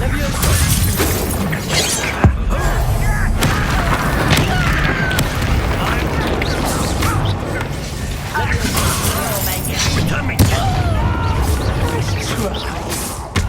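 In Hogwarts Legacy combat, the Incendio fire spell erupts as a loud, dense roar of crackling, booming blasts with sharp shattering hits, layered under in-game character voices.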